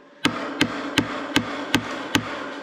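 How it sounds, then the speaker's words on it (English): Hammer driving screws into a greenhouse frame: six sharp metallic strikes at an even, steady rhythm about every third of a second, close and loud against a faint background hum. "hammer these in"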